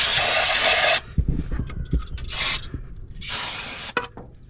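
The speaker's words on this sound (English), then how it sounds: "Put it in every hole you can find on it and just give it a squirt" An aerosol lubricant sprays into holes on an old pasture-found Ford, three loud hissing squirts separated by clanks and scraping handling noises, close and with no talk.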